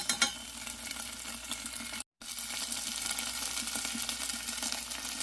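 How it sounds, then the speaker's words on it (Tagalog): Garlic and onion sauté in a pan with a steady, moderate sizzle and occasional stirring scrapes, continuing on both sides of a momentary silent gap. "naggisa na ako ng bawang sibuyas"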